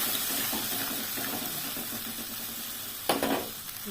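Spices hitting hot oil for a fish curry with stuffed rui and pointed gourd, a steady close sizzle with light stirring scrapes throughout and a louder burst of frying near the end.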